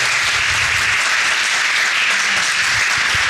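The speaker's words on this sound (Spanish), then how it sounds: "Dale un aplauso al Señor." Steady applause from a church congregation, dense and continuous clapping throughout with no break.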